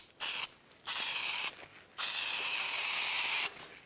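Spray adhesive hisses from a can beneath the rooftop tent on a 78 Series Landcruiser Troopy in three close, loud bursts: a short one, a longer one, then the longest, with brief quiet gaps between them.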